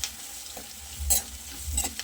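Spice mixture of turmeric, red chilli and salt being stirred in a pan on low to medium flame, soft sizzling under a few scraping spoon strokes, quiet and close.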